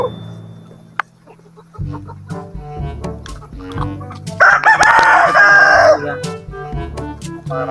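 Chickens and a rooster on a farm, with soft clucking and low farmyard murmur building to a loud, close cock-a-doodle-doo crow in the middle, followed by more clucking and scattered bird calls.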